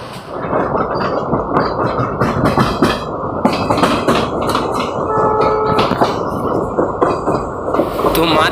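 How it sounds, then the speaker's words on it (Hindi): The Jodhpur-Jaisalmer Express runs on the tracks as a loud, steady rolling rumble with clattering wheel knocks and metallic clanks, heard from close by. "ट्रेन निकल चुकी थी जैसलमेर की तरफ।"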